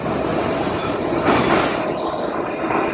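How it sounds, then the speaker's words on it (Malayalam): Loud, continuous rushing roar of a metro train pulling into a station in the Czech Republic, swelling briefly midway with a high screech of wheels on rails. "മെട്രോ വരുന്നുണ്ട് ഗൈസ്."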